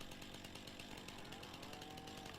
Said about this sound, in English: So I got myself a chainsaw